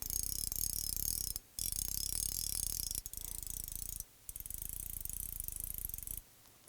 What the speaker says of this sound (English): Orvis has definitely improved the sound on the new Mirage LT.